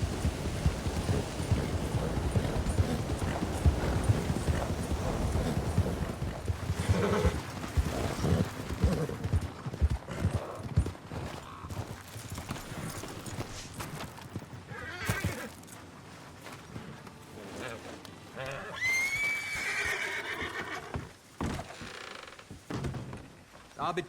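A horse in the Red Dead Redemption 2 video game, with hooves clopping and a neigh, mixed with creaks, thunks and other game sounds, while a person talks over much of it.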